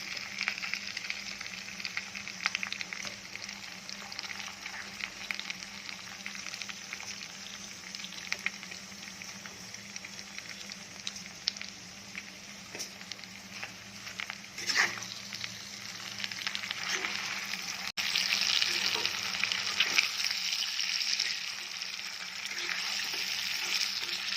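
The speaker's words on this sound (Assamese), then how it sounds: "মই লাই পাতটো অকণমান ভাজি লওঁ" Mustard greens (lai leaves), cut into long strips, fry in a hot pan with a steady hiss of sizzling oil, continuous and close, swelling louder toward the end with a few stirring clicks.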